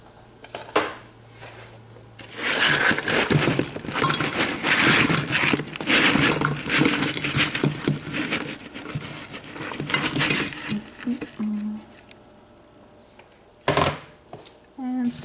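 Fresh strawberries tumble into the bottom of a 2-quart baking pan for a sourdough strawberry cobbler, a soft run of wet patters and light knocks lasting several seconds, close and fairly loud, then a few scattered thumps after a pause.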